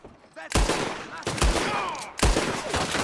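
Gunfire from the Red Dead Redemption 2 video game: three loud, close shot bursts spaced about a second apart, each followed by a rolling echo, with faint in-game voices in between.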